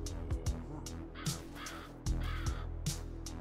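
Crow-like bird cawing in the video game Yaga, several harsh caws in irregular bursts over a steady droning game soundtrack.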